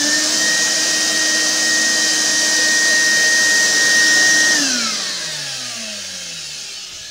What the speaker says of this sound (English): I could definitely hear the shop vac, but it wasn't piercing.